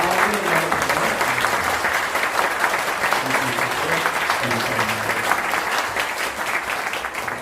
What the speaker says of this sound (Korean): 힘찬 박수로 한번